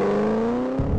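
A 2013 Ford Shelby GT500 holds a steady loud high engine drone at about 3,800 rpm, then the note drops abruptly into a rougher, lower roar as the launch-control start begins, heard up close.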